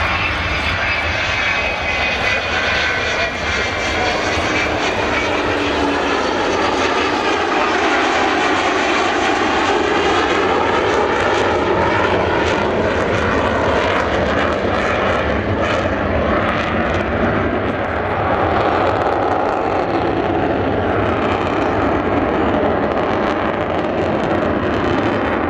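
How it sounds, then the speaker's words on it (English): The four Bristol Olympus 202 engines of an Avro Vulcan bomber roar loudly and continuously at the Southport Airshow, a sustained powerful jet rumble with a shifting, sweeping howl throughout. "the sound of those four Bristol Olympus 202 engines"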